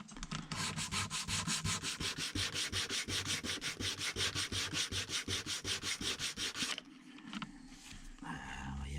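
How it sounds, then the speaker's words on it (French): A wooden piece of a miniature castle is sanded by hand in fast, steady back-and-forth strokes, loud and close, for about seven seconds before the rubbing stops and quieter handling follows. "il faut poncer encore"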